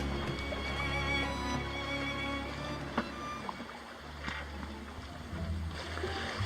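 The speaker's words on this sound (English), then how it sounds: "this 50-foot catamaran has been motoring all night long" A 50-foot catamaran motoring at sea in calm conditions, a steady low engine hum under water swish against the hulls, with a few soft knocks and splashes.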